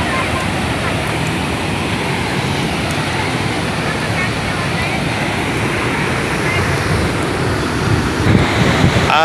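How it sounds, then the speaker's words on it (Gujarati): Rushing water at the Rudreshwar waterfall on a river beside a temple, a steady broad roar of falling and churning water that holds loud and unbroken throughout, with a brief rise in turbulence near the end. "આ રુદ્રેશ્વર વોટરફોલ છે."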